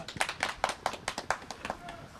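Rhythmic clapping after a Black Sea folk song in a Giresun village, about ten sharp, evenly spaced claps from a small group, close, with voices in the background.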